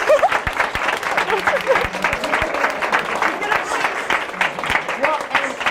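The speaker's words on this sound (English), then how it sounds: "people are probably standing and applauding" An audience applauds steadily after a live profiling session, with dense clapping and a few louder individual claps and faint voices mixed in throughout.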